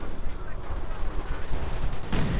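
An on-map artillery gun fires in a strategy video game, a burst of sharp booming reports with a louder blast near the end, a voice talking over it.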